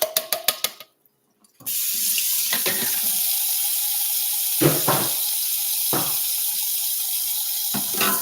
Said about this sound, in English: let's dump these black beans in here and get these babies washed